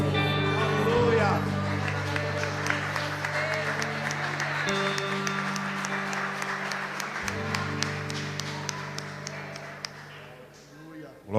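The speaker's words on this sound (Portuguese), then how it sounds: "Exalte ao Senhor, aplaudindo a Ele." A church congregation claps together during worship, rhythmic applause sitting under sustained music and voices, with a held tone dropping out near the end.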